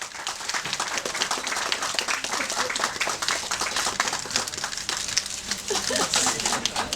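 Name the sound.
audience applause for Tiger Shroff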